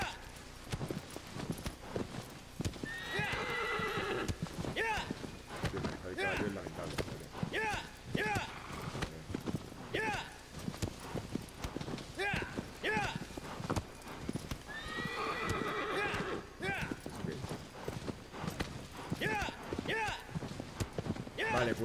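Horse gallops with steady, rapid clip-clop hoofbeats in the video game Shadow of the Colossus, close and continuous, broken by two loud whinnying neighs.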